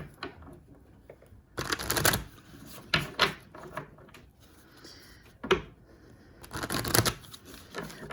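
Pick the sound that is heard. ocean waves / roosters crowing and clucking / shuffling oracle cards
shuffling oracle cards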